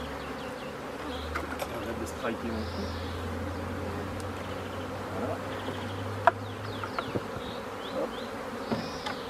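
Honey bees buzz steadily around a beehive, a close continuous swarm hum with occasional clicks and knocks from handling the hive, and someone speaking briefly in French.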